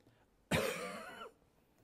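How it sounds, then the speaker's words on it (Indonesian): A single close, harsh cough lasting under a second, breaking a quiet background before fading back to near silence. "Baru batuk aja, ini batuk nih."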